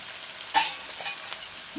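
Onions frying in oil in a pan for a small fish curry, a soft steady sizzle with a single brief stir or scrape near the start and a faint second one later.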